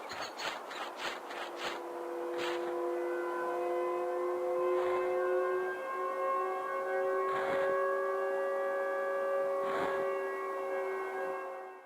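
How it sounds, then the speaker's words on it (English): Eerie distorted sirens in a PS1-style Siren Head horror game wail in long, overlapping sustained tones, rising and holding, with occasional dull thuds and a faint hollow echo. "The silence breaks with a faint, distorted sirens echoing in the distance."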